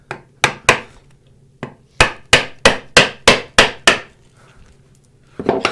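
A mallet strikes a mortising chisel chopping a mortise in wood for a draw-bore mortise and tenon joint, about eleven sharp, loud, close blows, several in a steady rhythm, with a short pause between groups.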